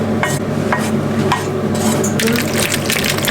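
Octopus tentacles tossed in a thick sauce inside a bowl make continuous close, wet squelching and sticky slapping with a soft scrape of the utensil, and no voices.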